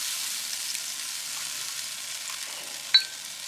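Pork belly char siu sizzles steadily on a grill, a soft continuous hiss of fat frying at moderate distance, with one brief sharp tick near the end.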